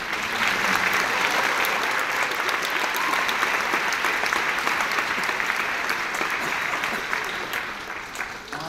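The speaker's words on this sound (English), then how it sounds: "One more round of applause for our beginners." Sustained applause for a junior high beginning band at a concert, a dense wash of clapping from a large crowd that holds steady and fades slightly near the end.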